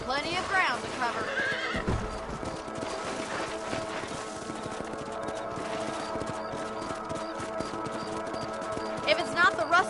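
A horse in the Western video game Red Dead Redemption whinnies loudly near the start, then its hooves clip-clop in a steady trot beneath a bed of game music and ambience, with another neigh toward the end.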